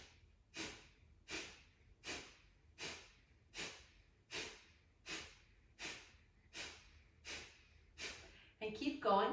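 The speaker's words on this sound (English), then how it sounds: "So sharp, short exhalations through the nose, and let your inhales occur naturally" Kapalabhati yoga breathing: a steady series of about eleven sharp, short nasal exhalations at an even rhythm, each a close breathy puff, ending with a voice starting to speak.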